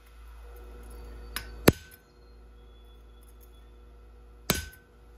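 Hammer blows on a cold chisel while forging an owl-shaped bottle opener from steel: three sharp, ringing metallic strikes, two close together then a lone one after a pause, loud and near against a low steady hum.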